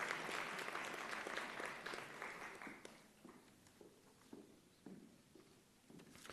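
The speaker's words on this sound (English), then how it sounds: "Round of applause." A nursing school convocation crowd claps for its graduates, with full applause that tapers off after about three seconds into sparse, isolated claps in a quiet hall.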